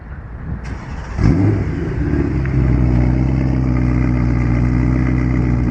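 A BMW E93 car engine revs hard and loud, not from a cold start, building from a short burst into a sustained roaring rev that holds steady to the end, with no talking.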